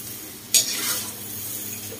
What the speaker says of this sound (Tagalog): Patience lang po tayo sa paghalo para maiwasan po dumikit yung malagkit na bigas sa kawali natin